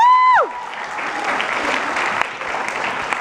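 A live audience at a Playlist Live 2014 YouTube panel breaks into broad, sustained applause and cheering right after a brief electronic tone, the clapping filling the room steadily to the end.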